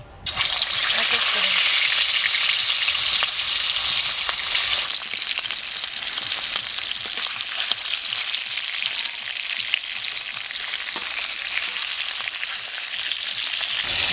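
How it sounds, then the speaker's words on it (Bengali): Rohu fish pieces rubbed with salt and turmeric fry in hot oil, giving a loud, steady, hissing sizzle that starts abruptly and continues without a break for the whole stretch. "তেলটা আমার গরম হয়ে গেছে তো আগে থেকে মেখে রাখা লবণ আর হলুদ আমি মেখে রেখেছিলাম এখন মাছগুলো দিয়ে দেই"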